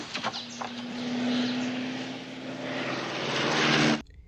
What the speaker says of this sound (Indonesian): tiba-tiba sebuah pesawat bermanuver di atas mereka